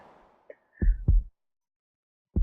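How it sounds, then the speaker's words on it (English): In the video game Chrono Cross, a synthesized heartbeat gives one deep, close double thump. A faint tonal chime comes before it, and another thump starts at the end. "Heartbeat. Heartbeat."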